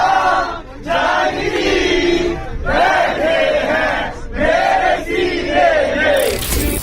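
A crowd of young people chants Jai Shri Ram inside a Delhi Metro train, loud rhythmic group shouts repeating in several bursts with short pauses between them.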